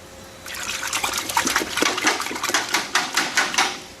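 The filter of a Graco A100 Pro Plus paint sprayer is rinsed under running water, a close, splashing wash with rhythmic surges as the filter is moved through the stream, and no speech.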